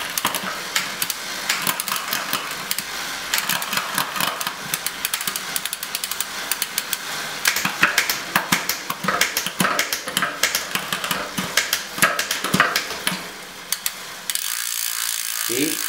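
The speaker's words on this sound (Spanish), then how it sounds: "comprobamos que el cambio funcione bien. Que haya quedado bien de tensión del cable" A mountain bike's rear derailleur and drivetrain click and ratchet continuously as the cranks turn and gears shift after a rear shift cable replacement, loud and close, then the clicking stops abruptly near the end.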